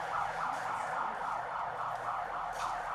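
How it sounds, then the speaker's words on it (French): Exam start siren at a composition centre in Benin marking the first paper at 8 o'clock, a steady wailing tone held throughout with slight rises and falls, moderately distant over faint background noise. "Il sonnait exactement 8 heures quand la sirène retentit, donnant ainsi le top de la première épreuve."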